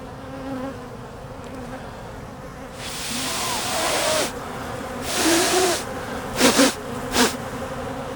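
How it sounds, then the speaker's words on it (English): Bees swarm at a hive inside a wall during a removal job in Denver, Colorado, a close, loud buzzing that swells and surges in waves, with short bursts of breath hiss over the droning. "There are so many bees climbing on the lens"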